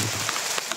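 Heavy rain keeps up a dense, steady hiss outdoors with a few faint drop taps, brief and with no talking.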